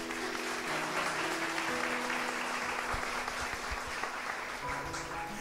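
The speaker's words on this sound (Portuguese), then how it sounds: "você pode aplaudir" Audience in a church gathering breaking into sustained applause, a dense, even roar of many hands clapping at constant loudness throughout, with faint tonal sounds beneath.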